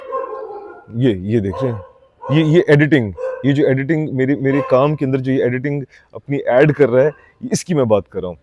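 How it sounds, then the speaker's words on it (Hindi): A dog barks outside in the background, faint and largely buried under a man's steady, continuous talking close to the microphone. "पीछे बाहर कुत्ता भौंक रहा है"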